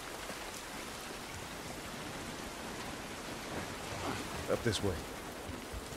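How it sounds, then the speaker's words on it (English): Steady rain falls across an outdoor scene in The Last of Us Part 1 on PC, a soft even hiss that runs throughout, with a brief spoken line and a few small thuds near the end. "This rain ain't gonna do us any good."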